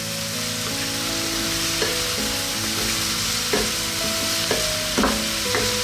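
Beef cubes for Filipino beef pares fry in a pan, a loud, dense sizzle punctuated by several sharp clinks and scrapes of stirring, nobody speaking.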